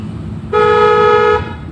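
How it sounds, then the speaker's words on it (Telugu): A single sustained car horn blast, loud and steady for nearly a second, over low rumbling traffic noise. "హార్న్ హార్న్ ఎక్కువ ఓకే ఓకే అదే పొజిషన్ హార్న్ మళ్ళీ"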